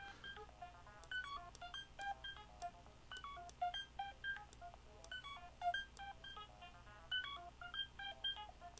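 Thor synthesizer in Propellerhead Record playing a quick stepping sequence of bright, short tonal blips with its filter envelope switched on, evenly paced and fairly quiet, with no one talking.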